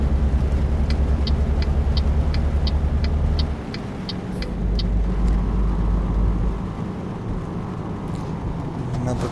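A heavy truck engine drones steadily while driving in the video game Euro Truck Simulator 2, a loud low rumble that shifts pitch midway, with rhythmic ticking like an indicator early on and someone talking over it.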